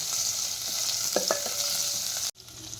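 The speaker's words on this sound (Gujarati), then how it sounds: "આવી રીતે હલાવશું આપણે અને આમના તેલમાં આમને સાતળશું" Okra (bhindi) sautés in oil for a sambharo while being stirred, giving a continuous close sizzle with a couple of soft spatula knocks before the sound cuts off abruptly.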